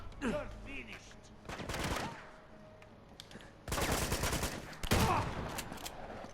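Gunfire from a weapon in Uncharted: The Nathan Drake Collection demo, with several loud bursts of shots and rattling volleys breaking in amid quieter game sounds, close and punchy with no speech over them.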